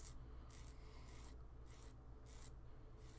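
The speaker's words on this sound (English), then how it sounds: "we're just going to lightly go over it right now with some sanding sticks" Sanding sticks are rubbed lightly over small plastic model kit parts, making soft, close rasping strokes in a regular back-and-forth rhythm, about six quick passes with brief pauses between them.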